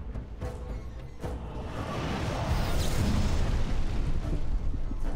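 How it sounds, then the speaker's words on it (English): A paralysis glyph explosion in Dragon Age: Origins, a magical burst that swells from sharp hits into a broad, roaring whoosh lasting several seconds, with no voices over it. "Paralysis explosion."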